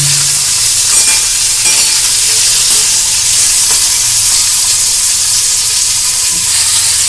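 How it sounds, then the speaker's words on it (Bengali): Capsicum being lightly tossed and fried in mustard oil gives off a loud, continuous, close sizzling hiss, with a few faint stirring scrapes. "হালকা একটু টস করে নেওয়া যাকে বলে, সেটাই করব।"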